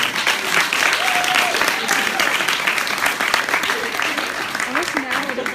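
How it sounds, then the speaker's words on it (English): Steady audience applause fills the room at a high school senior banquet hypnotist show, a dense, continuous wash of clapping that holds at an even level throughout, with a host's voice faintly audible underneath. "Nice round of applause for our volunteers."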